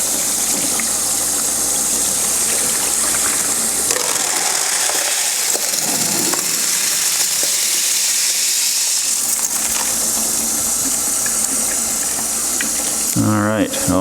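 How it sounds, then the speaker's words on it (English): Lukewarm tap water runs steadily into a sink, a continuous close hiss and gush with some clattering and a short voice near the end. "I'm going to get a little bit of water going, kind of lukewarm"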